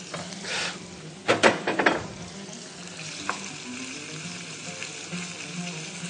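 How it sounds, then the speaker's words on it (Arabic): Chopped onion and minced meat fry in a pan on a home cooking show, hissing and sizzling steadily close up, with a few louder scrapes and stirs near the start and no talking. "ندبلوا شويه البصل ونزيدوا عليه اللحم المرحي"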